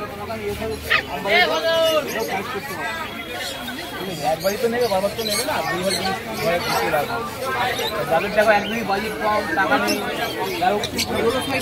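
Several dogs bark and yip repeatedly amid a busy crowd at the Serampore pet market, with people chattering and talking nearby throughout.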